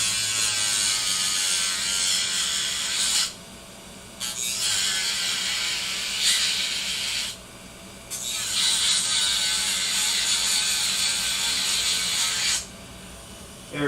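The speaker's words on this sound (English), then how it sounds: "It's best to use a Dremel to take it off. It comes off cleaner." A Dremel rotary tool running on a low setting cuts through a plastic housing during a Voron 3D printer build. Its high, buzzing whine comes close and loud in three long passes, each broken by a short pause.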